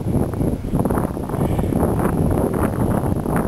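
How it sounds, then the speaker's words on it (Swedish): Strong wind buffets the microphone at an airfield near Stockholm, Sweden, a loud continuous low rumbling roar without letup. "Det blåser starkt, men rakt i banan."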